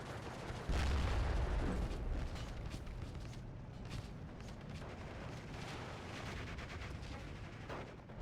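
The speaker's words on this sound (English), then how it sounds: "Artillery over there shooting at it." Artillery fire in the Steel Division II war game: a heavy low boom near the start, then continuing rumbling blasts and scattered distant firing under a dense battle din.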